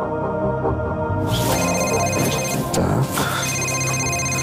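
A telephone rings indoors with steady repeated electronic tones over a dense background of noise and voices, and a single brief spoken word is heard.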